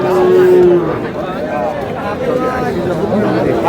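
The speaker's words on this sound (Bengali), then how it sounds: "শাহিওয়ালের ষাঁড়।" Sahiwal bull at a cattle market lowing in a drawn-out moo, heard among nearby voices and crowd chatter, with a second fainter call later.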